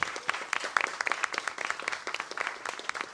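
A room full of people at a university council meeting applauding, dense steady clapping close and lively for a few seconds.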